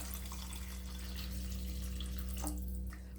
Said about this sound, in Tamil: இந்த ஸ்டேஜில் நம்ம கிரேவிக்கு தேவையான தண்ணி ஆட் பண்ணிக்கலாம்